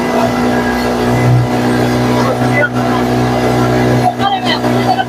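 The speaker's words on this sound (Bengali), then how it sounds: "স্পিড বোট খুব সুন্দর ভাবে চলছে।" Steady, loud hum of a speed boat engine running across the water in Jharkhand, with hilly shoreline nearby; the drone continues throughout with some brief dips, and faint talk sits underneath.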